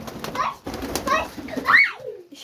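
Domestic pigeons, including a female, coo close by in a home loft with a male trying to mate. Several soft throaty coos arrive in bursts with brief wing flaps between them and a faint voice in the background.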